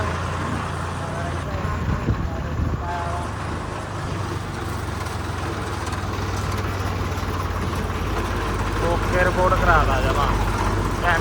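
A tractor engine chugs and idles steadily in a paddy field during rice transplanting, its low drone continuous and getting a bit louder toward the end, with people talking over it.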